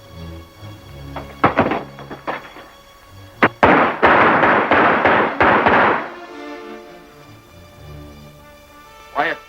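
Gunfire in a 1934 western: several sharp shots ring out one at a time, then a dense, loud volley of overlapping blasts that dies away, with voices heard around the shooting.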